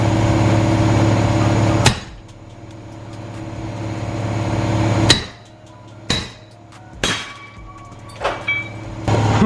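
Five sharp metallic hammer strikes on a metal part of a turbocharged RX-7 ring out over a steady mechanical hum, spaced irregularly, the first two loud and the last ones quicker and lighter.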